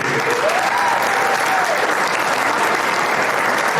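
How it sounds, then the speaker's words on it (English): Steady, loud applause from a banquet audience at a chamber of commerce annual dinner, a dense continuous clatter of many hands that holds evenly from start to finish with no speech over it. "let's give a round of applause for our chamber in this beautiful"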